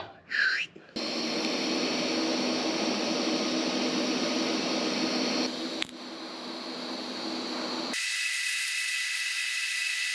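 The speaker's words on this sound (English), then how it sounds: "Just gonna weld this bad boy." MIG-style welding on steering parts for a Baja Bug, a steady loud crackling hiss that runs unbroken for several seconds, briefly interrupted, then continuing before cutting to a thinner hiss.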